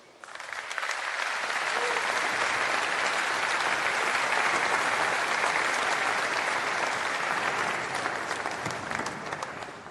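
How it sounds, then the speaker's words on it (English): Audience applause after a talk on adversarial thinking, a dense sustained roar of clapping that swells in quickly, holds loud and even, then tapers near the end. "Yeah, another round of applause."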